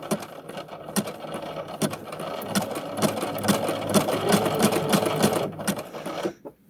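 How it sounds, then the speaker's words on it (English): A sewing machine stitches fabric fed through a tape maker, a fast rhythmic mechanical clatter running continuously for several seconds up close, then stopping abruptly near the end. "then you're going to start sewing."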